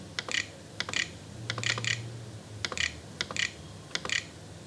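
Typing a search term on a computer keyboard: crisp, close key clicks in short, irregular clusters over a faint low hum, with no voices.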